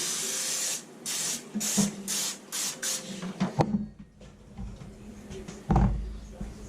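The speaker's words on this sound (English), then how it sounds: "Spray it with some non-stick spray." Several short bursts of non-stick cooking spray hiss onto a pan in quick succession, fairly close, followed by clattering and knocking of cookware.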